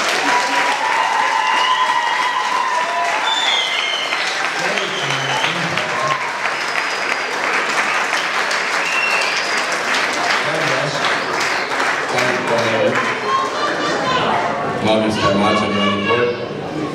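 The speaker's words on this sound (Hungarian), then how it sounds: "egy tapsot kérek" Loud, sustained audience applause from a crowd, many hands clapping continuously with some chatter mixed in, holding steady for the whole stretch before tapering slightly at the end.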